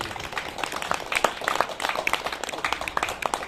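An audience at a Faridabad Kalibari event claps with a dense, continuous patter of handclaps that holds steady and fairly close.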